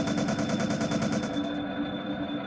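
Rapid machine gun fire in the video game Planetarian, a dense, steady stream of shots for about a second and a half, then a sudden stop leaving a lingering mechanical hum, loud and close.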